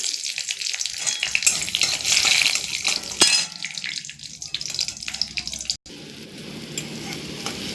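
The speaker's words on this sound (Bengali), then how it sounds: "এবার আমি কড়াইয়ে পাঁচফোড়ন দিচ্ছি।" Panch phoron spices sizzling in hot oil in a wok, a loud bubbling hiss that surges early and then settles into a quieter, continuous fry, with a brief sharp break near the end.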